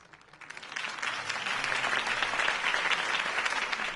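Crowd applause for Harvey Dent's campaign speech in the video game Batman: The Telltale Series, swelling in from quiet to a steady, moderately loud clapping roar that holds to the end.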